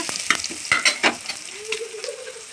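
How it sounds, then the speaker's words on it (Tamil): Onions sautéing in a pan for chicken biryani, a steady close sizzle with scraping stir strokes early on, then a softer frying hiss. "வெங்காயம் நல்லா சிவக்க வதங்கி வச்சு பாருங்க"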